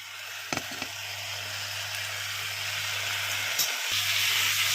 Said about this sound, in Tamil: ஸோ வெங்காயம் நல்லா வதங்கிடட்டும்.